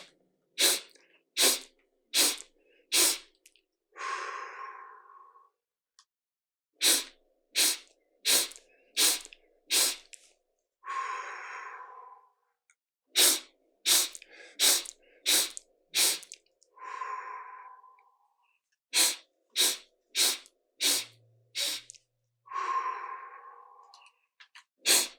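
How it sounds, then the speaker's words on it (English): Yoga breathing exercise: repeated sets of five short, sharp sniffs in through the nose, each set followed by a long breathy exhale through the mouth, close and clear in a quiet room. "we're going to take 5 sips of energy through our nose, and then we're going to exhale through our mouth"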